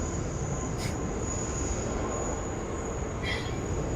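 A Qantas Boeing 737 departs runway 16 right at Sydney Airport, heard as a steady, distant engine roar with a constant high whine and two brief squeaky bursts.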